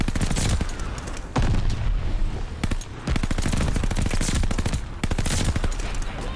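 Rapid bursts from a DP-27 light machine gun in a shooter game, loud and close, with dense strings of shots broken by short pauses.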